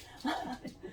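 A dog whimpers and makes a soft, brief yelping sound, faint and close, in a quiet room.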